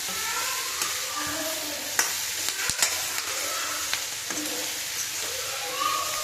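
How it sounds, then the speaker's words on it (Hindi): Vegetables sizzle and crackle after being tempered in hot oil in a home kitchen pan, with a spoon scraping and clinking as they are stirred, steady frying close by. "तो ये मैं सब्ज़ी छौंक दी"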